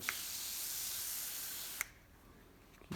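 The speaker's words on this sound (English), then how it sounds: "I got a pump sprayer" A pump sprayer hisses out a steady, close spray of water for almost two seconds while a 1950 Plymouth door is repaired, then cuts off, leaving quiet background with a few faint taps.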